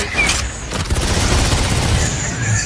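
Explosions and rapid blasts in Devil May Cry 5 gameplay: a dense, booming barrage of overlapping bangs, loud and continuous, with a few sharper bursts and a brief high tone early on.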